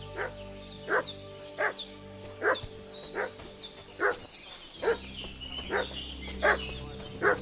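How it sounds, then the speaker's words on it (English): A dog barks repeatedly in the medieval video game Kingdom Come: Deliverance 2, steady, fairly close yaps roughly every half second over a low ambient game hum. "What's that dog making such a fuss about?"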